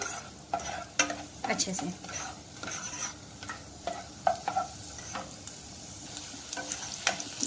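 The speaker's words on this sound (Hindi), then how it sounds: "ग्रीन चिलीज और 2 मिनट के लिए सॉटे करना है" Green chillies and garlic sizzle in a pan while a spatula stirs them in irregular scraping strokes and clicks, fairly quiet and close, with a few soft words spoken.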